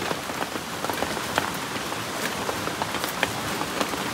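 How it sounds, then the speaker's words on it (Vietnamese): Steady rain falls on a surface as a constant close hiss, with scattered louder drop taps throughout and no voices. "Trăm triệu hạt mưa, không hạt mưa nào rơi nhầm chỗ."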